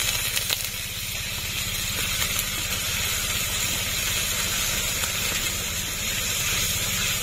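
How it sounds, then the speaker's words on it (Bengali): Spice-rinsing water from ground ginger, cumin and dried chilli paste poured into a hot pan for a pumpkin curry, giving a steady, loud hissing sizzle that holds evenly throughout with no voices. "আদা বাটা, জিরে বাটা, শুকনো লঙ্কা বাটা, মশলা ধোয়া জল দিয়ে দেবো।"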